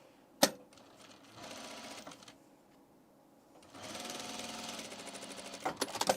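A sewing machine stitches fabric for men's pants in short bursts of rapid mechanical whirring, with a sharp clack at the start, a pause between runs and a few clicks at the end.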